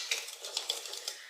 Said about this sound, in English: I'm going to mix this flour and sugar just a little bit.